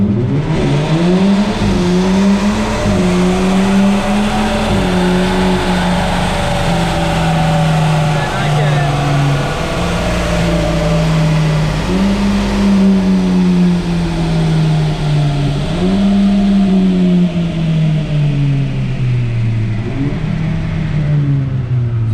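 A stock-tuned VW MK5 GTI with a DSG gearbox revs hard on a dyno, the engine note climbing and dropping repeatedly as it flips through the gears, loud and continuous.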